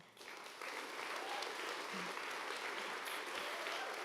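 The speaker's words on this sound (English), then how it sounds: "These claps are very life-affirming, I have to say." Gala audience applauding after a poetry reading, a full sustained round of clapping that rises quickly and holds steady, heard from within the room.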